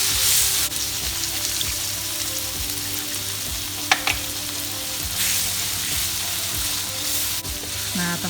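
Goat curry spice paste simmering in a pan with 250 ml of added water as it cooks down until dry, giving a loud, continuous sizzle and bubbling with an occasional utensil clink.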